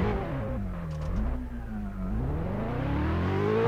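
A Ferrari Scuderia in the racing video game Test Drive Unlimited 2 revs loudly and steadily. The engine note dips, then climbs again in pitch, with no voices over it.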